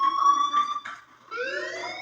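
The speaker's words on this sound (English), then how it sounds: "Hey, do you hear that fire alarm?" A fire alarm rings in the Life is Strange video game, a sustained electronic tone with bright harmonics. It breaks briefly, then returns as a rising wail at moderate loudness with no voices.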